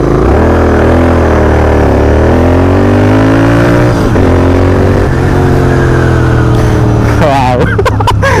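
A Royal Enfield Interceptor 650 motorcycle engine rumbles loud and close, its pitch rising and falling through several revs, then a sharp burst of higher revving at the end, with voices mixed in.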